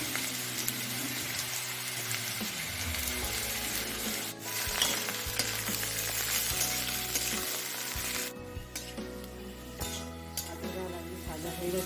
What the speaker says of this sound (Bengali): আলুটা ভাজা ভাজা হয়ে গেছে এবারে গাজরটা দেবো দিয়ে দেবো গাজর